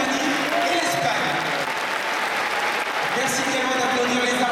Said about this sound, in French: vous pouvez les applaudir très très fort s'il vous plaît